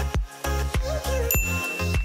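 A series of bright, ringing bell dings, about eight evenly spaced chimes, loud and clear with no talking.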